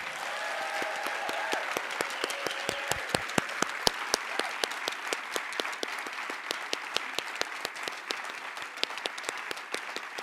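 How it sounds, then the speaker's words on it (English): Dense, steady applause from a large audience at an MLK community celebration, with many hands clapping continuously and fairly close for about ten seconds, and no voices over it. "Now everybody please give them a round of applause."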